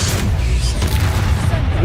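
A Confringo spell explodes in the game Hogwarts Legacy as a loud, dense, low boom with rumbling blasts that runs through nearly the whole moment, while a voice speaks over the noise.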